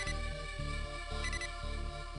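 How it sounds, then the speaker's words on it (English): Scouter beeping in the Dragon Ball Z: Buu's Fury video game, a quiet electronic chirp pattern repeating in a steady rhythm of about four bursts over a layered tonal game soundtrack. "Hey, Trunks, you're beeping."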